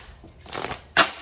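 A deck of tarot cards shuffled up close, a soft rustling sweep followed by one crisp snap of the cards, no talking.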